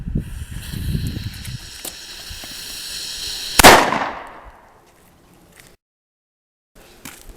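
A small firecracker set off against a clay model dam gives one sharp, loud pop with a brief hissing tail, followed by near silence, over faint background noise before it.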